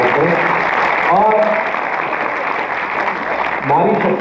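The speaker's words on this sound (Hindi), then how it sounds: "मैं चाहता हूँ पूरा सदन एक बार उनके लिए जोरदार तालियों से स्वागत करें।" An audience at a Hindi poetry gathering breaks into steady applause to welcome a poet, a broad patter of clapping across the room with voices speaking over it at moments.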